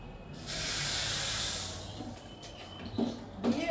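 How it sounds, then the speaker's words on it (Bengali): Hot spice tempering poured over potato curry (aloo dum) gives a broad hissing sizzle that swells and then fades, followed by a few faint clinks near the end, with no talking. "ওপর থেকে আমি এই ফোড়নটা দিয়ে দিলাম।"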